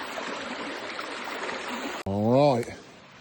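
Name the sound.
creek water flowing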